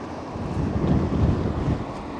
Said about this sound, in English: maybe later on if the wind calms down a bit